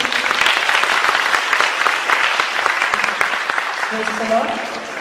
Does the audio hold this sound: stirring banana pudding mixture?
no